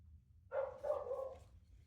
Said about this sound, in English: Now we got the neighbor's dog.